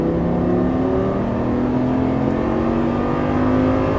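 A Lamborghini Gallardo LP550 on a racetrack accelerates at full throttle, its engine a loud, sustained roar rising steadily in pitch, heard from inside the car with no talk.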